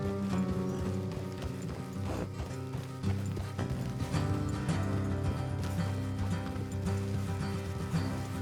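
Horse hooves clip-clopping on a trail in Red Dead Redemption 2, a steady rhythmic trot beneath a thick layer of game music and ambience, with no voices.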